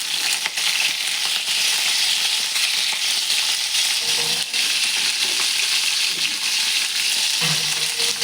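Bell pepper pieces fry in a pan with constant loud sizzling and periodic stirring scrapes, continuous and close with no voices.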